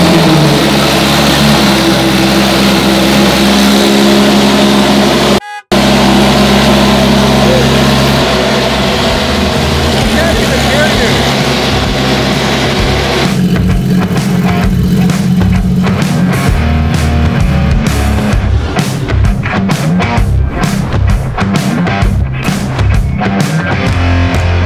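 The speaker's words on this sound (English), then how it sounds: "the JCR headers and full race exhaust makes this car sound like the RSR race car" Lamborghini Urus SUV fitted with JCR headers and a full race exhaust, starting from cold: a loud, deep, continuous engine roar that holds steady, breaks off briefly, then returns with rapid revving pulses.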